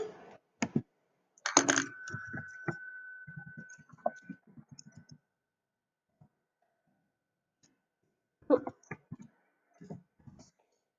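Computer keyboard typing of a chemical formula: short bursts of quiet, close key clicks with long silent gaps between them, no talking.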